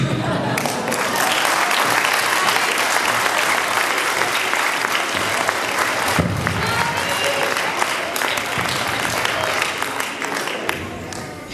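An audience applauds at a park event, dense sustained clapping from many hands filling the room, loud and continuous, easing slightly toward the end.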